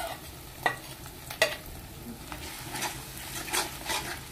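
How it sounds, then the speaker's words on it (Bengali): Garlic and ginger paste fries in a pan with a low, soft sizzle, and two distinct scraping stirs come early, followed by quieter stirring and light clatter. "এটাকে একটু ভালো করে ভেজে নেব"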